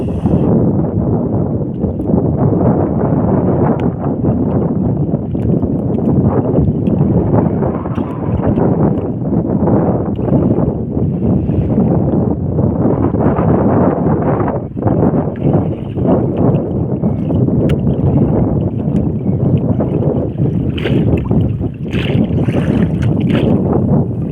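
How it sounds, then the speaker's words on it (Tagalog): Strong sea wind buffets the microphone in a steady low roar with gusty fluctuations throughout, no voices over it. "Medyo mahangin mga lods."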